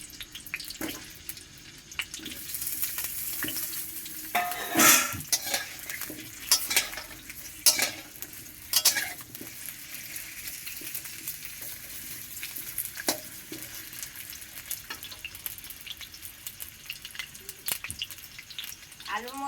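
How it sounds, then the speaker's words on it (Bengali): Potatoes frying in a pan, a soft continuous sizzle broken by sharp clinks and scrapes of stirring, louder bursts around the middle, with faint background talk. "আলু নিয়েছি বন্ধুরা, আলু আমি ভেজে নেব।"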